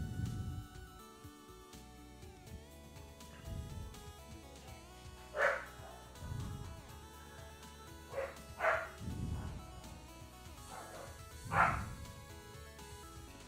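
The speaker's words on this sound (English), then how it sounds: "The dog's going crazy over there." A dog barks excitedly in separate sharp bursts, several times over a dozen seconds, moderately distant and fairly faint over a quiet indoor background.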